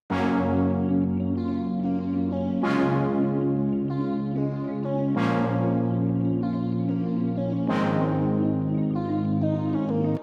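An 80s pop and 70s disco-style pre-chorus built from keys, brass, lead synth, guitar and synth bass with no drums, its chords changing in a steady pattern roughly every two and a half seconds.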